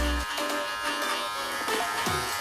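Electric hair clippers buzz steadily and close by, working a low mid skin fade with a number one guard, the motor drone holding on through the short stretch with slight surges as the blade moves.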